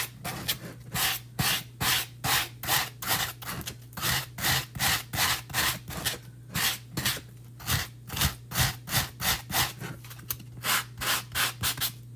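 Coarse 60 grit sandpaper is rubbed back and forth over a surface in steady rhythmic strokes, roughly two per second, each a loud close scratchy swish, continuing for about twelve seconds over a low constant hum, with no talking.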